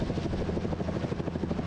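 A Bell 505 Jet Ranger X helicopter runs on the ground with its rotor turning, a loud, close, rapid rhythmic thumping chop over a steady turbine roar, with no voices.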